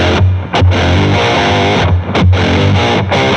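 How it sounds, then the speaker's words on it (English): An electric guitar runs through a MonoNeon Whammy pedal set one octave up, giving loud, buzzy pitch-shifted riffs with short gaps between phrases and no talking. "That's a typical 1 octave up"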